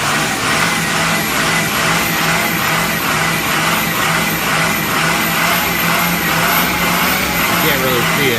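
A snowplow truck engine with a failed EGR cooler runs during a cold start, pumping coolant out of the exhaust. It makes a loud, steady, unbroken roar close by for the whole stretch.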